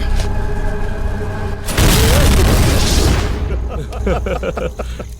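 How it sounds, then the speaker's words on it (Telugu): A bomb blows up inside a jeep in a Telugu action film scene: a sudden, loud, full-bodied boom that roars and slowly decays over a few seconds, with voices talking before and after it. "పోలీసోడి ఇంట్లో బాంబు పెట్టడానికి వెళ్తే అది ఆడి జీపులోనే పేలిపోయిందంట"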